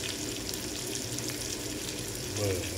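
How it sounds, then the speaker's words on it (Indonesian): Food fries in hot oil in a home kitchen pan, a steady dense sizzle and crackle that fills the whole span at an even level, with a brief low clunk near the end and no talking. "Lanjut guys, kita goreng."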